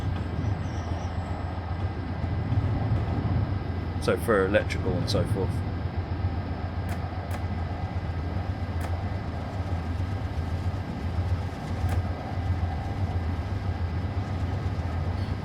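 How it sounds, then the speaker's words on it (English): A P32AC-DM diesel locomotive idles in Train Simulator, a steady low engine rumble with a continuous hum beneath it and a few brief squeals, while someone talks over it throughout. "The engine's left idling"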